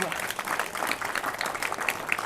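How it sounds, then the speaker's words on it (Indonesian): Crowd clapping at a Balinese Hindu religious gathering in Kediri, a brisk, continuous burst of applause close by with some voices mixed in. "Tepuk tangan untuk umat Kediri, Bun. Tepuk tangan."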